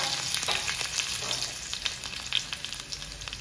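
Curry leaves crackle and sizzle in hot oil in a pan for tempering, a steady close-up spitting hiss with dense little pops throughout and no voices.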